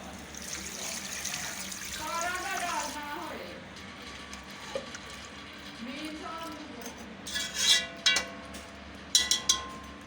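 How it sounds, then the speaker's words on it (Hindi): Water is poured into a cooking pot of beef korma: faint running liquid under a voice, then a few short splashing bursts near the end. "अब 3 प्याली पानी डाल लेंगे।"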